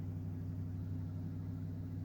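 A van engine idles slightly high, a low steady rumble heard faintly and evenly over the brief moment with no talking.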